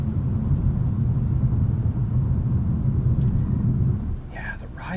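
A 2022 Mercedes-Benz C 300 with a four-cylinder turbo engine and AMG Sport suspension drones as a low, steady rumble while driving, and a voice breaks in briefly near the end.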